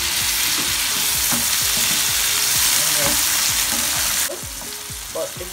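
Sweet peppers, white onion, hot pepper and dried thyme frying in a pan for Jamaican ackee and saltfish, a loud continuous sizzle with a regular run of spoon scrapes and taps, easing quieter near the end.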